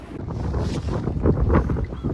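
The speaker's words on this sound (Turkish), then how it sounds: "Maalesef aşırı halde rüzgar var" Strong wind buffeting the microphone in gusts at a marina in Nice, France, with a low rumble and faint water sounds nearby.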